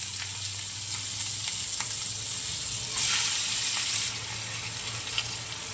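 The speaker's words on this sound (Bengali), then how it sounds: "বেশি ভাজবো না পেঁয়াজটা, অল্প অল্প ভাজবো" Chopped onion frying in oil with salt and turmeric, a steady close sizzle with occasional faint stirring ticks, rising briefly louder midway before settling back.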